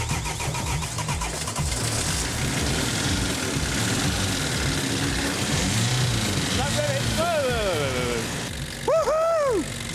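A scrap-built underwater vehicle's engine running with a very long exhaust pipe, a rough low rumbling churn throughout, with people talking and excited voices rising over it toward the end.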